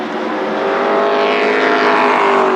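Late model race cars circle Berlin Raceway at a 1997 regular-show race night. Engines roar loud and close in a steady, continuous drone, and the pitch climbs slightly as they accelerate. No voices are heard.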